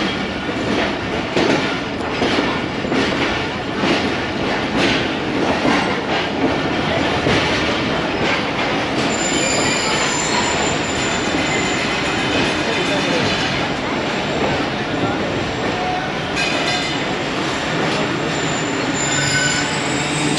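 Jaffar Express passenger train on a single-line track between Lahore and Rawalpindi, with loud continuous wheel rumble, rhythmic clickety-clack and high metallic wheel squeal, plus faint voices in the background.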